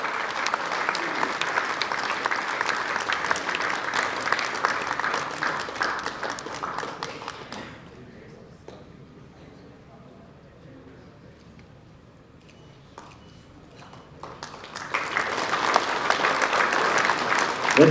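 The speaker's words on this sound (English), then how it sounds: "Let's give you applause, ladies and gentlemen." Audience applause at a sports conclave in Meghalaya, a dense wash of clapping that fades to a quiet lull midway, then swells back up loudly at the end.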